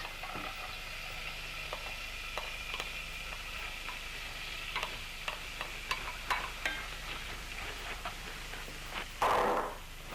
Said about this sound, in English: Now I'm adding the onions.